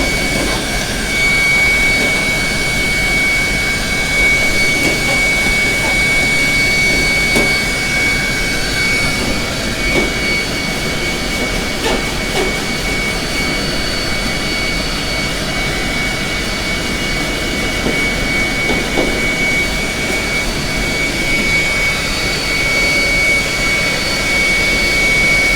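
Vacuum cleaner with a brush attachment removing dust from a conveyor dryer, giving a constant loud, close roar with a thin high whine that stays unbroken for about twenty-five seconds, with no talking.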